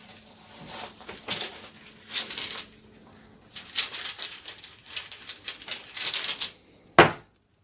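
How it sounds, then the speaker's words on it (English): Divination dice are shaken and rolled during a tarot reading, with a run of light clattering rattles and taps in uneven bursts, ending in one sharper knock as they settle. "So let's look at the divination dice."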